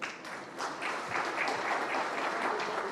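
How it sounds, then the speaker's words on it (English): Audience applause at a poultry industry symposium in a hotel hall, a steady wash of many hands clapping that swells and holds without breaking. "Clap for yourself."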